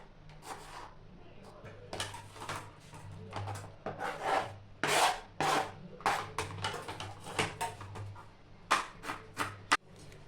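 A knife cuts tomatoes in half on a board for tomato rice, a series of close, dry scraping and chopping strokes in irregular bursts, with a low steady hum underneath.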